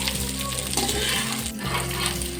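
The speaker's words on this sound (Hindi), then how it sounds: "अब भिंडी को हमने एक ही दफ़ा में डाल देना है सारा, और ये बड़े आराम से फ्राई हो जाएगी।" Okra shallow-frying in oil in a large wok for dhaba-style masala bhindi, a steady, close sizzle and crackle that runs unbroken throughout, with no voices.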